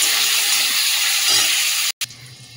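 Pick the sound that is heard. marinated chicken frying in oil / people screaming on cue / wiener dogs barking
marinated chicken frying in oil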